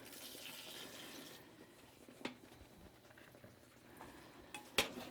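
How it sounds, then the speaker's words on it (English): Water being poured into a cast iron pot with roux for chicken stew, heard as a brief faint liquid fill and soft clinks of cookware, alone with no talk. "now I'm just going to add a little shot of water just so my roux don't stick to the bottom"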